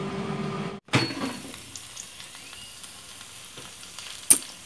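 Faint, steady sizzle of food frying in a pan, with a brief clatter near the start and a sharp click toward the end.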